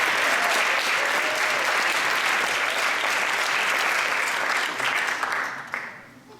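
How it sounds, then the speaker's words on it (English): Loud, steady applause from a theatre audience welcoming a spoken-word poetry group onto the stage, sustained for several seconds before fading out at the end. "give a big round of applause for Ebony Readers Onyx Theatre"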